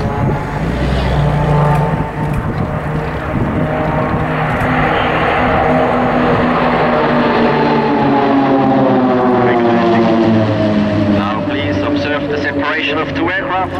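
Swiss Pilatus PC-7 propeller aircraft flying in formation at an air show, loud propeller drone building and passing overhead with a pitch shift, an announcer talking over it.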